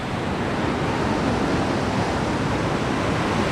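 Strong floodwater after heavy rain rushes in a steady, dense roar, loud and close, with no pauses or voices.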